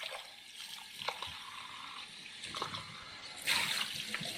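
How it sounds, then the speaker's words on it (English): Water runs briefly from a tap as a Philips LatteGo milk container is rinsed, a soft splashing trickle that surges louder near the end. "Just rinse it real quick."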